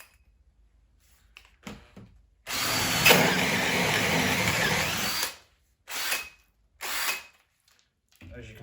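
A Pro Fit saw rips through a kitchen cupboard side in one loud, steady burst of about three seconds, followed by two short bursts; brief quiet clicks come before the cut.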